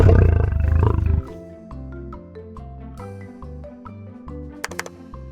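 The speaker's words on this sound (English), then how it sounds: "Lion." A lion gives a loud, rumbling roar for about the first second, then it fades under a steady plucked children's music backing.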